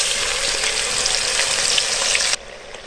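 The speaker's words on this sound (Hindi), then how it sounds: "हमारे मसाले भी फ्राई हो जाएंगे।" Steady, dense sizzling of spices frying in hot oil, loud and close, cutting off abruptly near the end to a quieter hiss.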